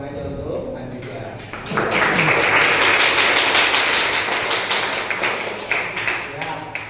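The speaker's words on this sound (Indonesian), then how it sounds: "Tepuk tangannya untuk Andika." A classroom of students claps for a classmate, a burst of mixed hand claps and taps that swells up after a short pause and continues under some voices.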